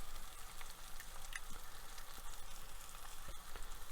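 Food sizzles steadily in a frying pan with a dense, even crackle and no talking, a few faint pops rising above the hiss.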